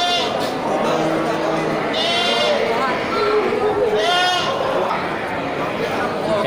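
Goats and sheep bleat repeatedly amid a busy livestock market selling sacrificial animals, with the murmur of a crowd and people talking in the background.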